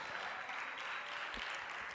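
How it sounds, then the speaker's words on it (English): An audience at a music business conference applauds two panelists, giving a brief, even wash of distant clapping at low volume. "A round of applause for them both."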